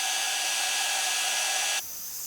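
A heat gun blowing over heat shrink tubing on crimped wires, a steady loud whooshing hiss that holds for almost two seconds before switching off.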